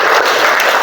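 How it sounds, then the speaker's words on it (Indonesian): A class of students claps their hands together in a short, dense burst of applause, loud and close, with no talk over it. "Oke, tepuk tangan dulu semuanya."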